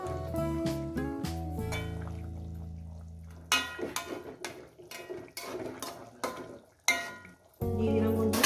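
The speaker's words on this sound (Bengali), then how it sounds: "মাছগুলো একটু উল্টি পাল্টিয়ে দেবো যাতে ঝোলটা ঢোকে।" Rohu fish pieces turned in a thin curry with cauliflower and potato in a pan, metal spoon scraping and clinking against the pan with soft sizzling and liquid stirring, close and fairly quiet.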